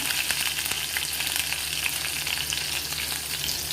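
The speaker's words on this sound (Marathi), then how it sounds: "जिरा मिरची चांगली मस्त तेलामध्ये तडकलेली" Cumin seeds and green chillies crackle in hot oil in a kadai, a dense close sizzle full of rapid popping that stays loud and even throughout, with no voices.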